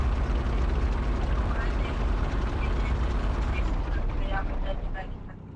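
A helicopter in BGMI drones loudly and continuously, its rotor roar trailing off near the end.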